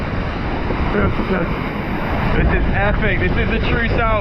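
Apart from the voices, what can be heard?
strong wind and ocean waves at sea off Cape Horn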